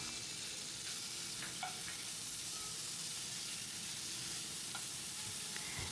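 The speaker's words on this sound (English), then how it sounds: "saute it up until it becomes translucent" Onion, garlic and ginger sauté in hot oil in a wok, a soft, steady sizzle with light stirring scrapes throughout, fairly quiet and close, with no voices.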